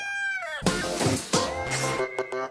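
A chicken calls loudly inside a home kitchen, starting with a drawn-out crowing note and breaking into a run of harsh clucks, heard close and on its own.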